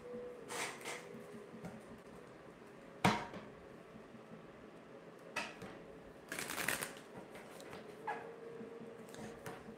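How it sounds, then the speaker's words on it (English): Tarot cards being shuffled in a quiet room, with a sharp riffle burst near the start of the middle and further crisp bursts later, all fairly faint and close with no talking. "Do a little bit of shuffling to clear that energy out"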